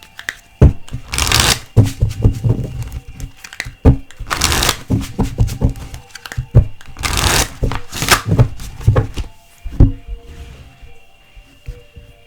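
Fortune cards being shuffled in three distinct riffling bursts, each a loud crisp flutter lasting about a second, separated by quieter taps and handling clicks, close to the microphone.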